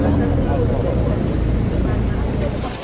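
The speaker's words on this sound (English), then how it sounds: "we're going to slow the boat down and slowly spin it around to give you a view of the colour sands" Tour boat slowing down and spinning around off the colour sands near the Needles, a steady low engine and water rumble mixed with wind buffeting, easing slightly toward the end.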